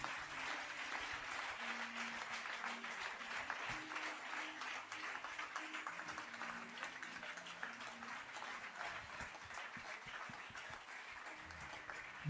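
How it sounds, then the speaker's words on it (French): A church congregation applauds during a worship service led by Pastor Mamadou Diomandé, with sustained, moderately distant clapping from a crowd, a faint musical tone drifting underneath. "Put your hands together for the Lord."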